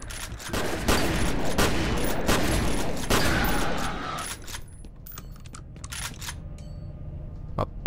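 Gunfire in the shooter game F.E.A.R. crackles in sharp, dense bursts over several seconds, then thins to scattered shots and mechanical clicks, with a final loud snap at the end.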